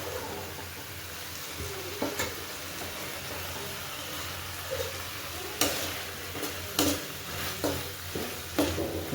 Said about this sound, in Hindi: तब तक मैं मसाला भूंज रहा हूँ